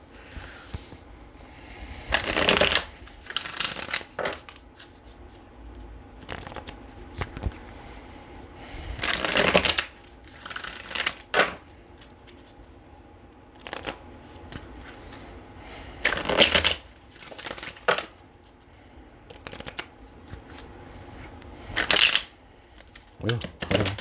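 Tarot cards are shuffled in several distinct, loud riffling bursts a few seconds apart, with quieter handling sounds and a low voice in the gaps.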